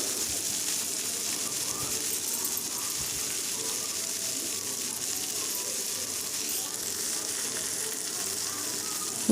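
Brinjal tomato curry sizzles steadily in a pan, a close, even hiss that holds throughout, with faint movement from stirring beneath it.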